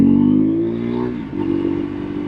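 Husqvarna 401 Svartpilen single-cylinder motorcycle engine held at a steady, loud rev close by, with a brief dip in the middle before climbing back to a strong, throbbing drone.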